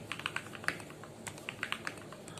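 Rapid typing on a mechanical keyboard, with clacky keystrokes in quick bursts and short pauses, close and clear with no talking.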